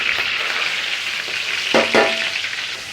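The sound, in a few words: starch frying in ghee in a large wok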